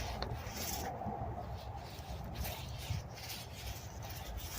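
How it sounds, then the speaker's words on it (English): A hand rubs and presses potting soil down into seedling trays, making a continuous, close, gritty scraping and brushing sound with no talking. "Going to rub it down into there."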